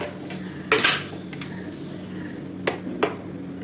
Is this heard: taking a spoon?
yes